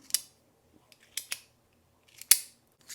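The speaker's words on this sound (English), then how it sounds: "The bolt action is really easy to manipulate." A carbon fiber Bastion bolt action pen is worked by hand, giving a few sharp, crisp metallic clicks close up with quiet gaps between them.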